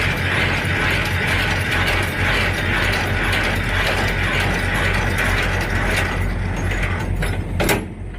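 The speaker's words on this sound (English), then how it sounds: "you get about 30 cranks out of a landing gear to get it up or all the way down" A semi-trailer's landing gear is hand-cranked in a fast, continuous ratcheting clatter of gears, loud and close, easing off near the end.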